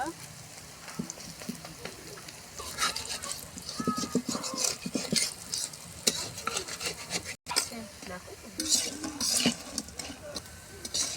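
Browned pieces of food fry in a pan after being flipped, with a soft sizzle under repeated spatula scrapes and stirring clatter, while a voice speaks now and then.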